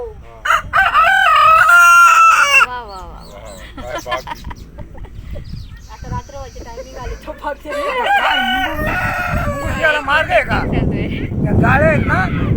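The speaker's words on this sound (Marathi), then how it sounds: "हा कोंबडा सगळ्यात मोठा आहे वाटतं" A large rooster crows loudly several times in a row in a village, with people talking over and between the calls.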